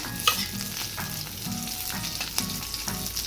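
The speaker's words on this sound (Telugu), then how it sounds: "ఇది బాగా వేగాలి పచ్చిమిర్చి అనేది" Green chillies frying in a pan as a side dish, a steady close sizzle broken by repeated stirring scrapes and clatters, with no talk.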